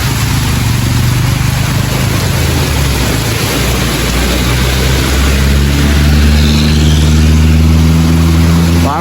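Vehicles drive past on a road in heavy rain in Jaffna, with a constant rain hiss blending into loud engine drone and rising revs as traffic moves close by, no voices heard.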